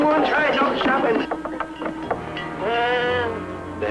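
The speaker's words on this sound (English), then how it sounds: "Look out for the goat!" A goat on a farm lets out a wavering, drawn-out bleat near the end, following a stretch of people talking close by.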